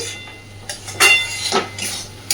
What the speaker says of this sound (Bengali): খুব ভালোভাবে নাড়াচাড়া করে আবারও একটু ঢাকা দিয়ে দেব